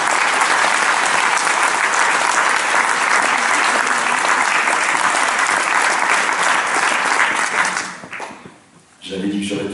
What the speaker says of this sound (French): je vous demande d'applaudir Patrice Josse